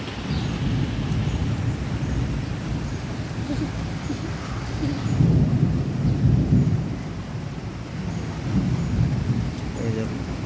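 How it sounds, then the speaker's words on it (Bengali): Steady rain falls among coconut, papaya and mango trees while thunder rumbles continuously, swelling louder in the middle and again near the end, loud and enveloping with no voices. "আবার দেখুন বন্ধুরা বৃষ্টি"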